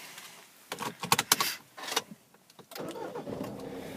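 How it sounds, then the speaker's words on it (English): Keys click and a starter cranks in short bursts, then a car engine catches and settles into a steady, close idle. "look at the dash whilst I start the car"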